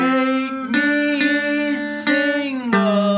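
Blues guitar riff, a short phrase of about ten notes with sharp plucked attacks and ringing sustained tones, played close and clear with no talking.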